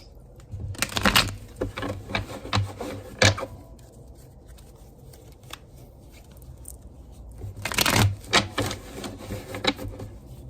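Tarot cards riffled and shuffled by hand, two bursts of brisk papery flicking near the start and again around eight seconds, with softer rubbing and tapping of the deck between them.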